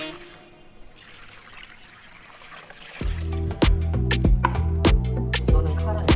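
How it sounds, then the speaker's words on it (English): Mixture and a splash of water poured over cabbage for a cold noodle dish, starting midway as a close, loud splashing pour with a few sharp clatters and knocks, no voices. "The mixture is poured right over the cabbage with a splash of water to bring everything together."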